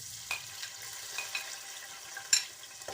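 A steady, bright sizzle of garlic frying in oil, with a few soft scrapes and taps of stirring and no talking.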